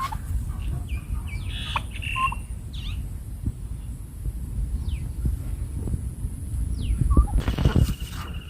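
Farm chickens let out outdoors after days shut in a shed give scattered clucks and short calls at moderate distance over steady outdoor background noise.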